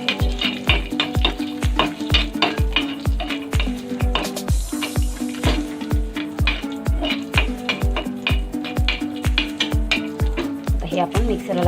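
Cashews roasting in a hot pan with oil, stirred steadily, giving a continuous close sizzle broken by regular scraping and clinking strokes of the spoon against the metal pan throughout.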